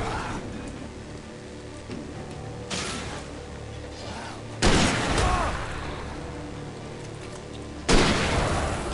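Rifle fire in the Alan Wake video game comes as a few loud, booming shots spaced several seconds apart, each followed by a rumbling tail over a noisy, rain-like backdrop.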